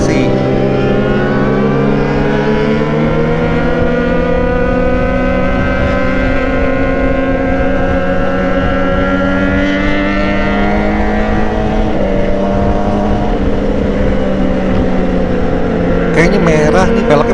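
Several Kawasaki ZX25R motorcycles on a group ride let out a continuous, close, high-revving exhaust wail that rises and falls through the gears, with loud engine tone throughout.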